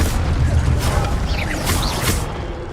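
A fire spell being cast in the video game Hogwarts Legacy, a loud rumbling whoosh with crackling bursts that holds for nearly three seconds and eases off at the end.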